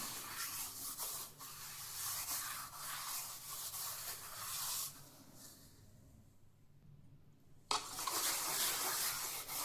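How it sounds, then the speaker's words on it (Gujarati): Cleaning powder scrubbed over a metal puja dish by hand, a steady gritty rubbing with water-like wash, close and continuous, pausing briefly before resuming. "આપણે આ પાવડર લઈને આ રીતે ઘસી લઈશું"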